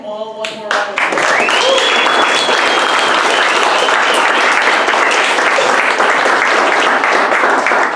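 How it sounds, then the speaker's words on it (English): Loud, sustained round of applause from an audience at a startup pitch event, dense clapping rising quickly after a brief spoken moment and continuing steadily to the end. "Why don't we give them all one more round of applause?"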